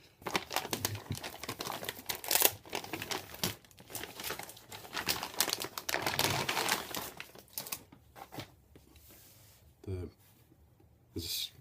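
Plastic bag crinkling as a Vertex VMB70 is unpacked, bursts of rustling and crackling come and go up close, with a few sharper handling clicks near the end and no talking.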